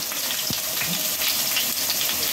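Chicken braises and fries in a pan, a dense, steady sizzle that stays close and even throughout, with one brief knock partway through and no speech.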